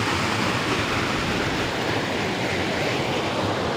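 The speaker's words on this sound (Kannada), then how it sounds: "ಆ ಗಡರಿ ಲೂಸು ಫಾಲ್ಟ್ ಆಗೈತೆ ಲೂಸ್ ಆಗಿಬಿಟ್ಟು ನೀರು ಈ ಥರ ಹೋಗ್ತಾ ಇದ್ದಾವೆ" Water rushes steadily out through a loose, faulty sluice gate at the outlet of Mugadalabetta lake in Pavagada taluk. It makes a loud, unbroken roar with no voices over it.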